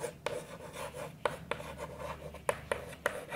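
Pen writing on paper in a classroom, close scratchy strokes with sharp taps marking each new letter or word in an uneven rhythm, with no talking.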